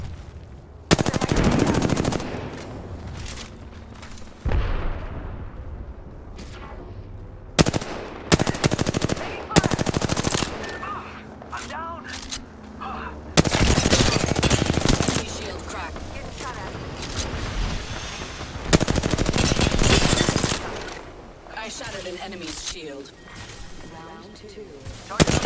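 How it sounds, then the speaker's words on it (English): Gunfire in Apex Legends, with repeated loud bursts of automatic fire and single shots in abrupt clusters, separated by brief lulls, mixed with game voice callouts. "They're shooting at me."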